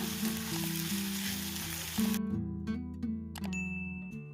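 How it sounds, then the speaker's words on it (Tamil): Onions and tomato sizzle steadily as they fry in a pan, with occasional stirring clinks and a utensil ding near the end, all close and continuous without talk. "இந்த மாதிரி வெங்காயம் நல்லா வதங்கி கொஞ்சம் லைட்டாக ப்ரௌன் கலர் வர கொள்ளைக்கு பாதி தக்காளியை இதில் ஆட் பண்ணுறேன்."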